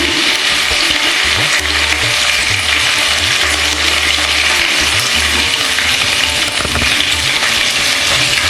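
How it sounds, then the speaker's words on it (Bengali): Curry leaves and asafoetida tempering in hot oil on a low flame for sambar dal, a loud, steady, close crackling sizzle that holds without a break throughout. "ভালো করে এই ফোড়ন সুগন্ধ বেরোনো পর্যন্ত একটু নাড়াচাড়া করে নিচ্ছি কয়েক সেকেন্ড।"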